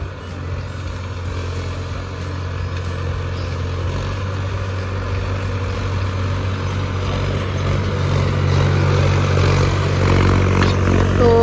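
Tractor driving across a freshly sown wheat field on a farm in Kotdwar, Uttarakhand, a steady, loud diesel engine drone with rumbling low chug and clatter that grows slightly louder toward the end, with no talking.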